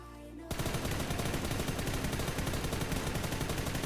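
Rapid automatic gunfire from PUBG New State bursts in after half a second of quiet and sprays continuously, loud and close, with dense repeating shots to the end.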